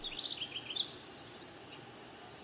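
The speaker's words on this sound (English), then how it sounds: "It's dawn, and the birds have been up for hours." Birds chirping at dawn: a quick run of high, bright tweets in the first second, then fading into a faint, airy background with no voices.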